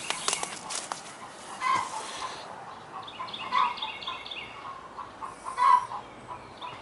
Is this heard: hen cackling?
yes